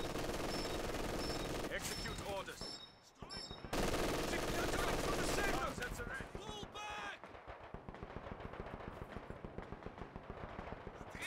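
Rapid machine-gun bursts and scattered gunfire crackle in a Company of Heroes 4v4 match on Hill 400, set against a thick bed of game music and explosions, with a short lull partway through before the firing resumes.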